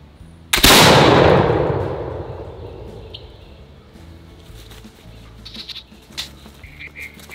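A smoothbore muzzleloader loaded with shot fires once at a watermelon outdoors, a loud, close blast that rolls away into a long echoing decay, followed by faint scattered rustles and small knocks.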